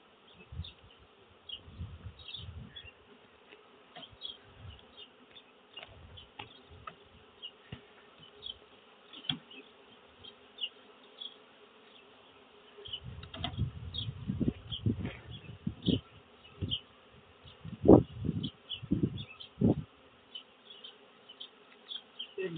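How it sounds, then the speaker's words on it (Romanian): A swarm of honey bees carrying pollen hums in a continuous high drone outdoors, with louder passes from nearby bees and low rumbling bumps mixed in. "am văzut albine cu polen roi"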